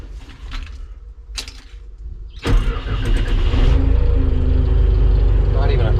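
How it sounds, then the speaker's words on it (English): Crane powered by a 4BT Cummins diesel cranking and catching, then settling into a loud, steady clattering idle close by, after a few quieter knocks and shuffles beforehand. "The moment of truth here is if the 4BT Cummins powered crane is gonna start."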